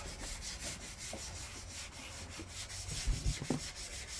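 Steady scraping rub of sandpaper worked back and forth over a paint drip on a Vauxhall Corsa SXi's bodywork, close up, with a couple of louder knocks near the end.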